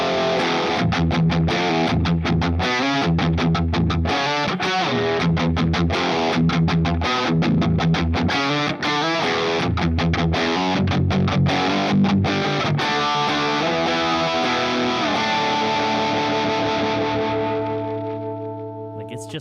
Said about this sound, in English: when you get to like the Marshall sounds